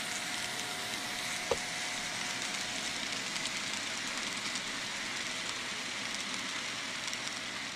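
A steady mechanical rumble and hiss of an N scale model train running continuously on a layout, even and unbroken, with one brief click partway through.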